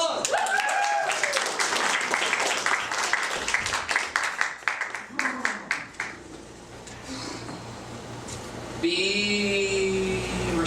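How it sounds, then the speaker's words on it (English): Crowd applause and cheering at an improv comedy theatre show, dense clapping for several seconds that thins out, mixed with voices and followed by a performer speaking. "give me a big round of applause"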